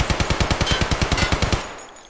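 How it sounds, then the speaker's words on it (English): A UMP submachine gun in Escape From Tarkov fires one full-auto burst of about fifteen close, loud shots at a fairly slow, even rate, then stops, with a short fading tail. "You can hear every single one of those bullets."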